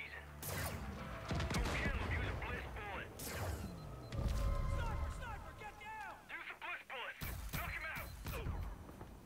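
Gunfire in the video game Far Cry 5, with bursts of shots, crashes and mechanical clatter layered over game sound effects in a busy, loud stretch of combat.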